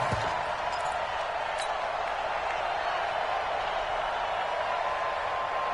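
A football stadium crowd roars steadily during a late fourth-quarter third-and-short play, a dense, constant wash of cheering with no break.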